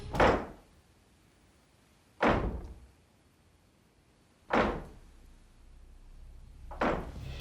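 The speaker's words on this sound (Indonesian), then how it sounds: "Pintu mulai menggedor lagi setelah Andrea membawa adiknya kembali ke tempat tidur." A door bangs heavily in a Conjuring Universe horror film, four loud, booming thuds spaced about two seconds apart, each decaying quickly into a quiet, tense room tone.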